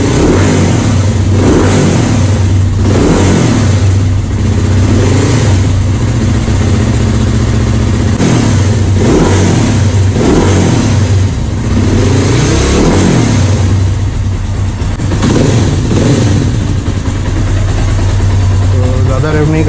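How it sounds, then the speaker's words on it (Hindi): A freshly washed motorcycle's engine idles close by and is blipped again and again, each rev rising sharply and falling back to a loud, throbbing idle in a repeating pattern. "बाइक की आवाज़ थोड़ी लाउड है"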